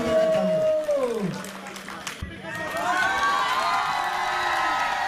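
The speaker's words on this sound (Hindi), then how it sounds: "चलो और एक बार सॉरी और एक बार चलो एक जोरदार तालियों प्लीज।" A crowd at a tournament prize ceremony in Itanagar cheers and applauds, with shouts and clapping rising after a brief lull while an announcer speaks over the noise.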